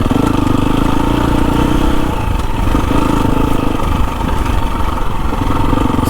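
Single-cylinder KTM XC-F 350 trail bike ridden on a rough dirt track to a lookout, its engine droning loudly and steadily close by with rising and falling revs and some clatter, and no talk.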